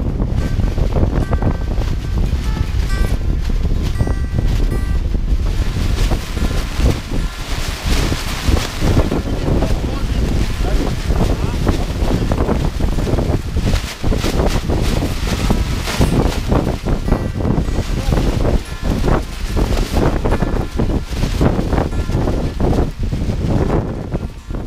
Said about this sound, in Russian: Сильный порывистый ветер взлохматил водную гладь реки